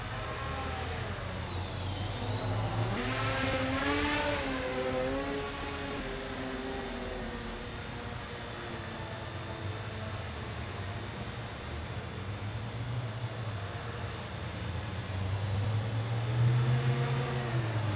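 An RC F-16 prototype model jet with vector thrust flies tight loops, its engine a steady high whine that rises and falls in pitch as it passes, continuous and moderately loud outdoors.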